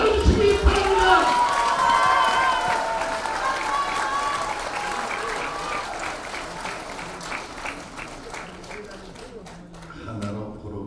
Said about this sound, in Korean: 여러분 박수로 다시 한번 맞아주시기 바랍니다